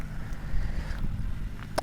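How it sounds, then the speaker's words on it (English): A tractor passing on a rural road, a low, rumbling engine drone that stays steady and fairly close, with a brief clatter near the end. "Wait for the tractor to pass."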